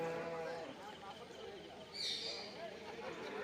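Large buffaloes tethered at a busy livestock market, with mooing and lowing under a constant crowd murmur, a faint bird chirp rising briefly midway, and people talking nearby.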